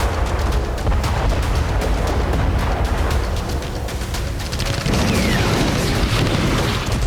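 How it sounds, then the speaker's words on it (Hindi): Bomb strike destroying a building in Kherson, a loud continuous roar of blast and rumble that fills the whole stretch, with crackling debris noise and a shift in tone midway. "ये खेरसॉन का वीडियो है जहां यूक्रेन ने बम दागकर एक इमारत तबाह कर दी।"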